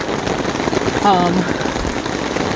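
Steady rain falls throughout a short outdoor walk, an even patter on surfaces with a brief tonal squeak in the middle and no clear speech.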